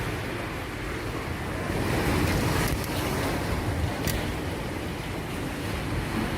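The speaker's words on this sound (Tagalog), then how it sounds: "Grabe ka kusog sa hangin" Strong winds and crashing waves from Typhoon Odette roar as a dense, continuous rush, loud and close, with brief gusts buffeting the microphone and no clear talking.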